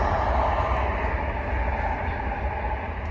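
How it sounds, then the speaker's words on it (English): A train passes close by with a loud, steady rumble and rolling wheel noise that stays continuous throughout. "train going past."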